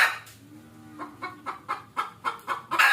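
A hen clucks while searching for a spot to lay eggs. A few soft low clucks open, then a rising series of sharp, rhythmic clucks follows about every quarter second, close and clear with no talking.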